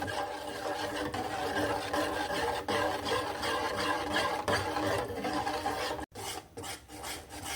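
Tomato cornflour sweet being stirred nonstop in a pan over the stove, a steady scraping and rasping of the utensil against the pan bottom that runs close and loud for several seconds, breaking briefly near the end before resuming.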